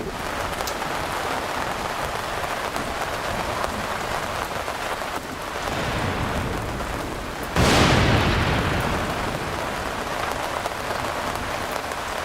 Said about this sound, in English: only to be awakened by a terrific rain and thunderstorm in the wee hours of the morning